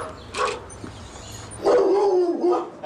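A small puppy, called a guard dog, gives a couple of short barks, then a longer whining, yelping cry close by.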